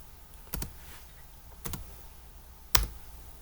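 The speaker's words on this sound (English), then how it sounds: "These keyboard on the Chromebook is very hard to deal with for me." Typing on a Chromebook keyboard: three sparse, sharp key clicks spaced about a second apart, close and moderately loud against a quiet room background.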